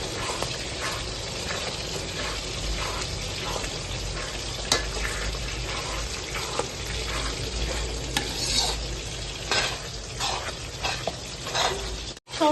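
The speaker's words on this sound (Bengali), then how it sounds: "সমস্ত বিষয়টা এখন আমরা একটু ভালো করে নাড়িয়ে নিচ্ছি পেঁয়াজের সাথে।" Chili and onions frying in a pan while being stirred, a continuous close sizzle with repeated scraping strokes of a spoon against the pan, steady and fairly loud throughout, no talking.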